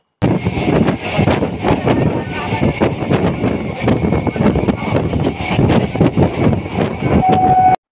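At a railway station in India, a train rolls past close by with continuous rattling and clattering of wagons, gusty wind buffeting the microphone, and a brief horn-like tone near the end.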